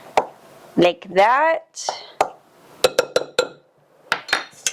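A spoon clinks and scrapes against a bowl while baking powder and sugar are stirred into fresh-milled flour for biscuits. Sharp, spaced taps run through the clip, and a voice talks between them.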